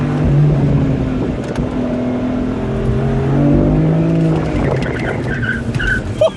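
A car on a Slovenian race track keeps up a loud engine drone with rising revs and some tyre noise as it drives hard and close, with no talk over it.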